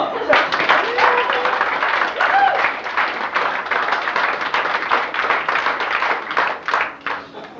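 Audience applause at a fashion modeling show on a cruise, a steady loud wash of clapping lasting several seconds, with some voices and a few cheers mixed in.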